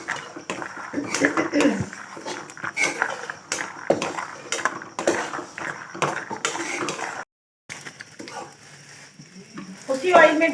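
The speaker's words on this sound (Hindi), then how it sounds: "उसी ऑयल में डालनी है हमने किशमिश, और किशमिश को भी हम करने लगे हैं फ्राई।" Raisins frying in hot oil for Pakistani panjiri make a steady close sizzle, with metal utensils clinking and scraping against the pan, a brief silent gap, then louder sizzling; a voice talks over it.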